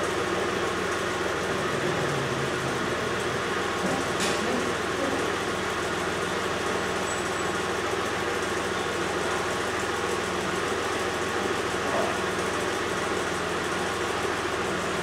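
A car engine runs at a steady idle in a workshop during a wheel alignment on a Hofmann Geoliner 678 alignment system. The idle is an even, continuous rumble for the whole stretch, with no talking.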